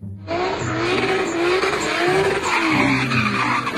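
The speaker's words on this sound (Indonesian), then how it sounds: "Mobil balap." Toy race car skidding sound effect: a loud, continuous tire screech with revving engine tone that starts abruptly and holds steady, wavering slightly in pitch for several seconds without speech.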